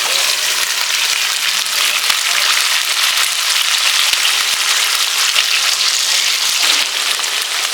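Pieces of rui fish fry in hot oil with onion and green chilli paste, a loud, close, continuous crackling sizzle that stays dense and steady throughout, with no talking.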